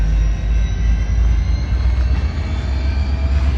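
A diesel train backs up at Ardmore station in Oklahoma, giving a steady, loud low rumble of engine and rolling stock that holds without break throughout.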